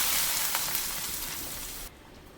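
Hot tempering hits a king fish curry with a loud, close hiss of sizzling that fades slightly, then drops sharply to a quieter simmer near the end.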